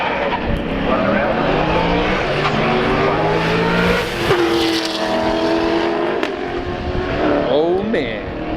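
Race cars, a Corvette among them, roar past at a 2018 drag-racing callout event, with engines loud and close, tires squealing, and a commentator's voice running underneath.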